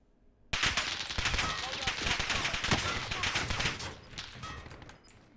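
Rapid automatic gunfire in Call of Duty Warzone bursts in suddenly after a quiet start, dense overlapping shots rattling for several seconds before tapering off, close and loud.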